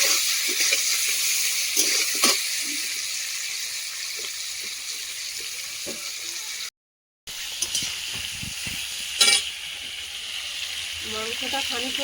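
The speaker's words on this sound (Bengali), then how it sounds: "ভালো করে ভেজে নেবো মাংসটা তেলে।" Meat fries in oil in a pan with a continuous hiss and sizzle, broken by a brief silent gap, with occasional clinks and spatters and a faint voice now and then.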